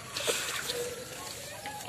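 Homemade fermented herbal liquid fertilizer poured onto the base of a year-old fruiting chili plant, giving soft sloshing and splashing with light trickles, close by, while someone speaks over it.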